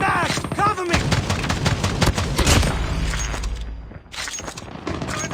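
Gunfire from an AA-12 shotgun loaded with slugs in Call of Duty Mobile: loud, rapid booming shots in a dense continuous burst, with game effects layered over them and a brief lull before firing resumes.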